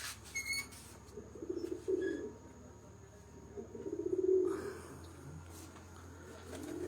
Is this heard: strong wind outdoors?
no